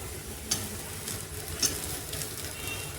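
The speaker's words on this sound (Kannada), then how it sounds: "ಇದಕ್ಕೆ ಇವಾಗ ನೆನೆಸಿಟ್ಕೊಂಡಿರೋ ಪೋಹೆನ ಹಾಕೊಳ್ತಾ ಇದ್ದೀನಿ." Soaked poha dropped into a hot pan sizzles softly and steadily, with a couple of faint clinks of a spoon against the pan; quiet and close.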